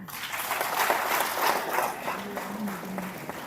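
Audience applause at a political speech on One Nation One Election at Bathinda Central University, a steady wash of clapping lasting a few seconds at moderate distance, with a faint voice near the end.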